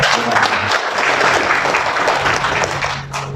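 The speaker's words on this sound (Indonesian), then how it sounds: "Monggo Mas, kasih aplaus." Audience at a spiritual talk breaks into sustained applause, loud and dense clapping that fades slightly toward the end.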